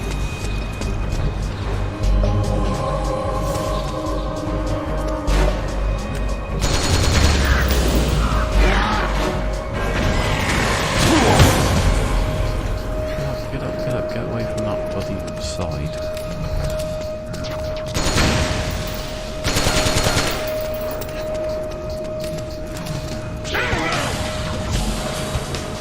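Metal Gear Solid 4 gameplay full of loud crashes, impacts and gunfire-like bursts, irregular and dense, with a steady tone running underneath.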